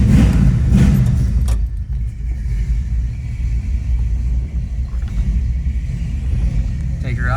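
A 1965 Ford Mustang fastback with a 289 V8 and an automatic transmission idles indoors and loads up a little. The deep exhaust rumble is close, loud and continuous, and it roughens slightly as it goes.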